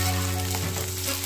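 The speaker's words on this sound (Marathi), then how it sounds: "आता ह्या भाज्या टाकायच्या याच्यामध्ये आणि 1 मिनिट हाय फ्लेमवरती भाजून घ्यायच्या" Vegetables sizzle and fry in hot oil in a kadhai over a high flame, a steady close crackling hiss with a low hum underneath and no one speaking.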